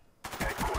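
Rapid automatic fire from a Scorpion submachine gun in the shooter game Black Ops: a dense, loud rattling burst that starts abruptly after a moment of quiet and continues to the end, with no talking.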